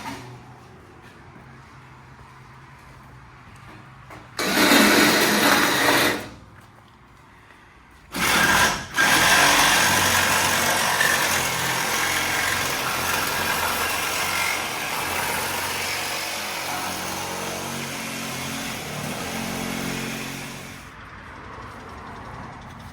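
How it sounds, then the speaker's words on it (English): An old van's engine runs roughly and unevenly, chattering with a busy mechanical clatter that surges louder in bursts, drops away briefly, then settles into a steady rattling run that fades near the end. "Old van ain't sounding too healthy, is it?"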